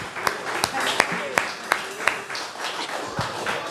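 A church congregation claps hands in worship, sharp individual claps landing at a steady rhythm over a reverberant wash of voices and music.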